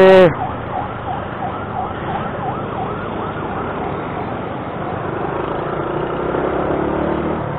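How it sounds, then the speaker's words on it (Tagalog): An ambulance siren wails in repeated rising and falling cycles as it passes on the road, heard from inside a moving vehicle amid steady road noise. "Ay, may ambulansya"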